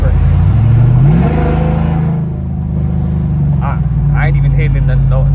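A modded race truck doing donuts in a neighborhood roars loudly and close, its engine revving up and down continuously with shifting pitch.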